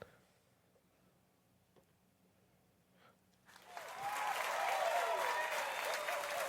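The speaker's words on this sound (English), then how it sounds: "Was my clapping not sufficient?" Hand clapping swells in after a quiet stretch and continues steadily, loud and dense, like a small group applauding close by.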